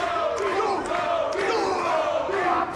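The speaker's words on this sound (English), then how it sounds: "The crowd clearly wants Toby Klein to win this battle royal" Wrestling crowd at a battle royal roars steadily throughout, a dense wall of cheering and chanting voices with a few sharper shouts rising above.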